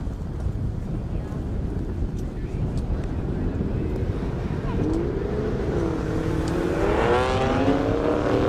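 A BMW 335is with a DCT gearbox runs down a half-mile airstrip, its engine a steady, wind-buffeted roar at a distance that rises in pitch toward the end, with continuous background noise throughout.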